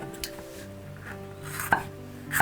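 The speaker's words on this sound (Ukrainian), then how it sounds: "Для початку нарізаємо білу цибулю напівкільцями." A knife chops white onion into half rings on a cutting board, a few soft, uneven cuts with a sharper knock near the end, close by and with no talking.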